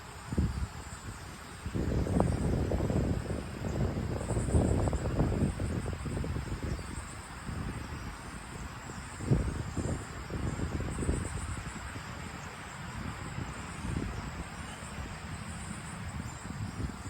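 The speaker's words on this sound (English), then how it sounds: "I got some wind going on and I don't know where my windscreens are" Steady outdoor wind buffets an unshielded microphone, producing continuous low rumbling gusts with louder surges early on and throughout, during a cigar-smoking session.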